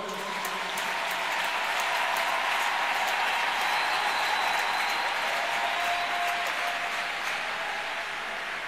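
A church congregation claps together in sustained, steady applause that fills the space evenly for several seconds, with a faint voice barely rising underneath.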